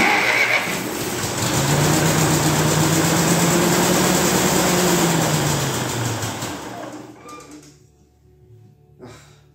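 A 1949 Ferguson TE20 tractor that won't start cranks loudly and continuously with a droning, whining churn, then winds down and falls quiet near the end.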